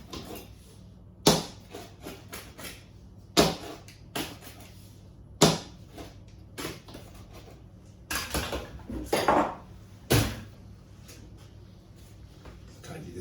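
A pizza cutter rolls through a vegetarian pizza in a foodservice kitchen, giving several sharp crunching cuts against the board at irregular intervals, with quieter handling noises in between.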